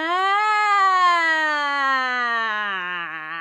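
A single sung voice glides up and then slowly down in a smooth, continuous siren-like sweep, a clear sustained vocal tone with rich harmonics and a slight wavering near the end, imitating a siren.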